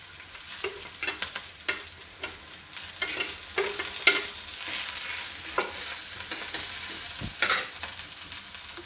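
Onion tossed in with roasting chilies for a Kolhapuri thecha, frying in a pan with a loud continuous sizzle and repeated stirring scrapes and clatters, close up and with no talking.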